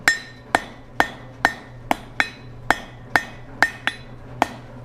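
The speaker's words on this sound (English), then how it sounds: "I'm going to bring it here to the far edge of the anvil, put a point on it." Ringing hammer blows strike hot steel at the edge of an anvil as a fire poker is drawn to a point, about ten sharp metallic hits in a steady, even rhythm, close and alone.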